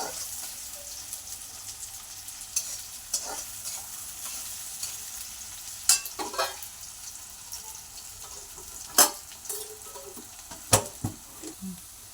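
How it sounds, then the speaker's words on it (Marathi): Onion frying in a pan for spicy pitla, sizzling steadily while a utensil scrapes and stirs it in intermittent close knocks, with faint running-water sounds in the background. "कांदा चांगला लाल होईपर्यंत परतून घ्यायचा"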